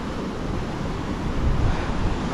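Rushing river water at a mountain stream crossing on a high-altitude road, a steady broadband roar with wind buffeting the microphone, swelling slightly midway, no voices.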